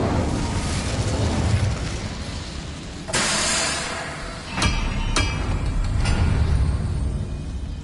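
An Incendio fire spell is cast in Hogwarts Legacy, giving a sudden loud fiery burst followed by several sharp crackling pops over a steady rumbling background.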